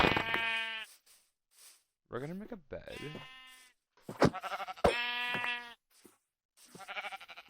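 Sheep bleating in a survival video game, several wavering bleats mixed with someone talking over them at night, fairly close and clear.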